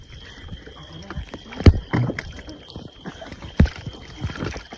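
A small boat moves through water while vegetables are gathered from it in a rural Thai setting, with soft watery swishes and two sharp knocks against the hull, a voice talking over it.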